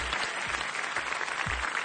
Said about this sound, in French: On applaudit aussi Maximilien.